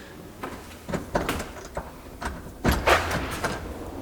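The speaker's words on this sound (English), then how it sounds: "You know what, I'm gonna open the door here." A door is opened indoors in a room filling with smoke, with several knocks, clunks and a rattling slide of hardware spread across a few seconds, fairly close but quiet.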